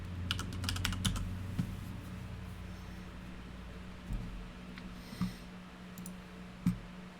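Computer keyboard typed on during a math lecture, a sparse run of soft, close clicks and key taps over a low steady hum, with a few sharper isolated strokes toward the end.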